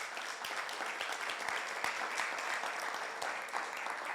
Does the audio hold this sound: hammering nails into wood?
no